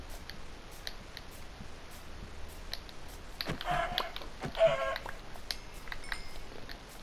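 Minecraft chickens clucking softly amid game ambience, with a few brief clucks near the middle over a steady low background hum.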